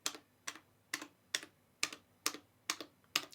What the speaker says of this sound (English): I'll give you some quiet taps as well.